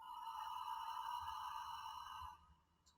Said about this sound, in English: And with ocean breath, so it's a little constriction of the throat.